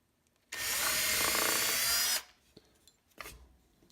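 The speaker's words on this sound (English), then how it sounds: "And you're ready to drill." A power drill bores a mounting hole for a ski binding, one loud continuous whine for about a second and a half, then it stops, followed by a few small clicks and a brief rustle.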